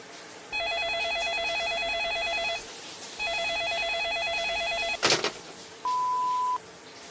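A telephone rings at midnight in a radio drama: two long electronic trilling rings with a pause between, then a sharp clatter as the handset is picked up and a short steady beep follows.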